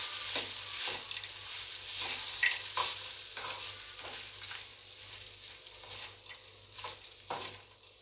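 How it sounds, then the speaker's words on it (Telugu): A spoon stirs lemon rice in a hot pan with a steady sizzling hiss and repeated scraping strokes throughout, close and clear, with no talking. "ఇలా బాగా కలుపుకోవాలి."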